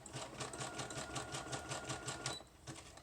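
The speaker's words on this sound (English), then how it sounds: "Go ahead and sew this here." A sewing machine stitches a paper junk journal page, a fast, even mechanical rattle of needle strokes running steadily, then briefly pausing and restarting near the end.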